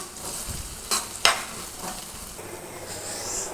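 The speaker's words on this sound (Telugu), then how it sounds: "ఈ కట్ చేసి పెట్టుకున్న ఉల్లిపాయ పచ్చిమిర్చి వేసుకొని లైట్ గోల్డెన్ కలర్ వచ్చేంత వరకు ఫ్రై చేసుకుందాము." Chopped onion, green chillies and ginger garlic paste frying in a pan, a continuous loud sizzle with a couple of sharp spatula scrapes partway through.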